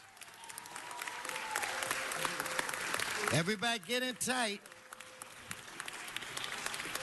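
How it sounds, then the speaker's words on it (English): Audience applause at a City Hall gathering runs throughout, steady and moderately loud, while someone speaks briefly over it midway. "Let's give them another round of applause."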